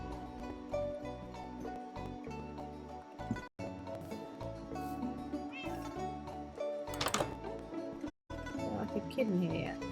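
A cat in the video game Minecraft meows repeatedly over looping game music and sound effects, with a person talking throughout.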